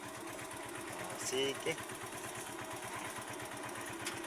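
A steady motorcycle engine runs in a low, even throb, with a person speaking briefly over it.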